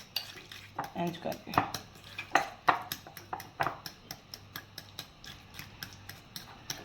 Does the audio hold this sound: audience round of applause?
no